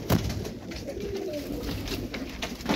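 Pigeons cooing nearby in soft, repeated low calls, steady and close with no talking.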